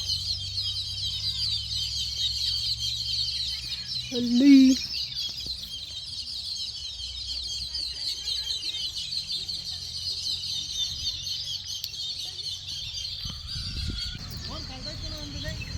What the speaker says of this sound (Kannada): ಪಕ್ಷಿಗಳು ನೋಡಿ ಗೈಸ್ ಎಷ್ಟು ಸೌಂಡ್ ಮಾಡ್ತವೆ